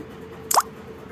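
A ginger-garlic, tomato and onion paste drops into hot oil with one brief, wet plop against a quiet background.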